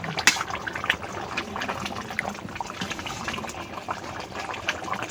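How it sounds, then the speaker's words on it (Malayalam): A pot of chicken curry bubbles and simmers steadily, with small popping and gurgling sounds close by and a few sharper clicks early on. "അങ്ങനെ ചിക്കൻ കറി തിളച്ചു കേട്ടോ"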